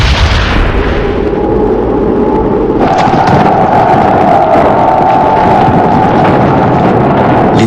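Artillery barrage of massed cannons and Katyusha rocket launchers pounding enemy lines at Stalingrad: a dense, continuous roar of overlapping blasts and rumble, loud and unbroken, with a steady tonal drone joining partway through.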